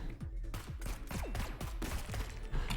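Rapid bursts of explosions and weapon fire in the video game Neon Abyss, a dense string of sharp hits with descending zaps, fairly faint overall.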